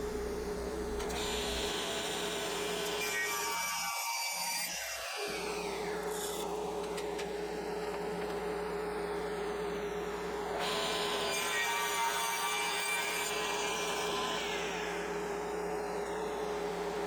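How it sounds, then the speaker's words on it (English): A table saw whines steadily through a wooden board, a high sustained cutting tone with brief pauses and changes in pitch as the blade squares up the board. "Next stop is back to the table saw, where we can square up the board on all four sides."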